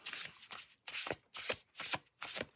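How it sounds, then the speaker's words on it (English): A deck of Golden Black Cat tarot cards is shuffled up close in six quick riffling bursts, each a crisp papery flutter, separated by brief pauses. "Oh, they shuffle beautifully this way."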